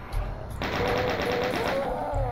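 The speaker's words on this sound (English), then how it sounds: "And this reveals a chain gunner." A chaingunner enemy opens fire in Doom II, a rapid steady rattle of automatic gunshots starting abruptly and continuing for a couple of seconds over a low background drone.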